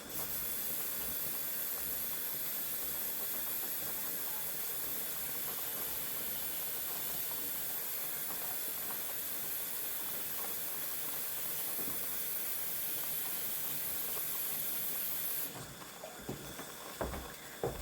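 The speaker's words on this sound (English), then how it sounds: "And just add some more water to my kettle." A kettle on the stove hisses steam steadily, unbroken for most of the stretch, then cuts off, leaving a few faint clinks and knocks.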